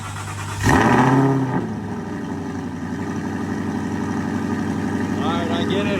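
Aston Martin V8 Vantage engine cranking over and catching, a loud burst of starter and revving that settles into a steady, rumbling idle, with faint voices in the background.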